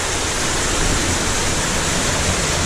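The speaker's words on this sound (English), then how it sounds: "that was just a baby waterfall" A small waterfall in a river cave pours steadily, a loud, dense and unbroken rushing roar close by with no other sounds over it.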